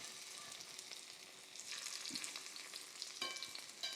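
Smashed potatoes crisp skin-side down in a hot pan, giving a steady, close sizzle. Utensil scrapes and taps come through as they are turned.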